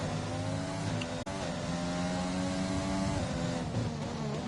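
Red Bull and McLaren F1 cars lapping in a racing video game at a Spanish circuit, a continuous high-pitched engine whine with gear shifts and shifting revs, loud and steady with no talk.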